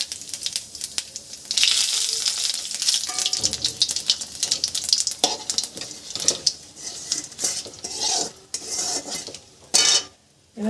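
Cumin seeds and chili crackling in hot oil for a Bengali-style chicken curry, a bright sizzle mixed with clattering utensils and stirring against the pan, loud and close in uneven bursts.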